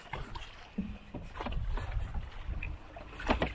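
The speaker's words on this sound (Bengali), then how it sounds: "এই দাদা নৌকা টানছে" A small wooden rowing boat rowed on the Ganges river near a sandbar island, with soft rhythmic oar splashes and creaks over gentle water and light wind, close and without talk.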